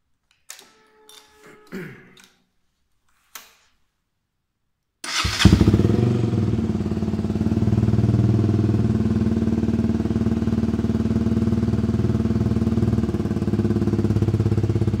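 A KTM Duke motorcycle fitted with an Akrapovic exhaust is started after a few faint handling clicks, then settles into a loud, steady, throaty idle that runs close up and uninterrupted to the end.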